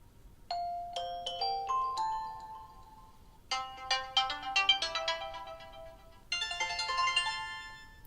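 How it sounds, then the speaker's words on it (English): Nokia Lumia 1520 phone ringtones play one after another: a bright chiming melody, then a busier tumbling pattern of tones, then another sparkling electronic tune, clear and up close with short gaps between them. "a ton of ringtones here that you do get on the Nokia Lumia 1520"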